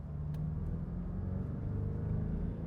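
A 2022 Land Rover Defender 110 pulls in fifth gear with a steady, low engine rumble heard from inside the cabin, even and unbroken, with no voices.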